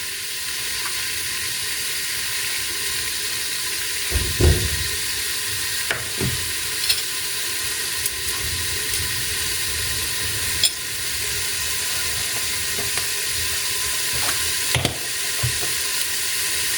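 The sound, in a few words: small pieces of meat frying with butter in a pot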